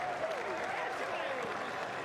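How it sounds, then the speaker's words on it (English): Cricket crowd at a Test match in Hamilton, New Zealand, applauding and cheering a wicket as the batsman is bowled late on day three, a steady dense wash of clapping and crowd noise throughout. "Duckett advances, and the crowd can celebrate"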